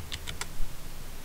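A computer keyboard is typed on in a quick burst of three sharp keystrokes, close and clear, followed by a quiet low room hum with no talking.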